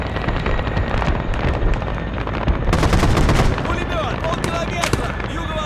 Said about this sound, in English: Somebody's receiving a rocket salvo.